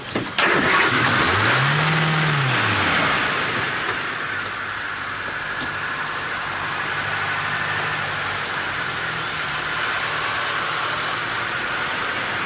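A car engine cranks and catches, briefly revving before easing into a steady mid-pitched idle that runs on alone for several seconds under a light hiss.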